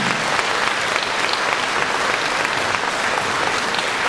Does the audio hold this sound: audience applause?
yes